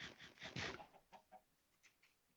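Chickens cluck softly in the video game Minecraft, a quick cluster of faint, bursty clucks followed by a few sparser, fainter ones.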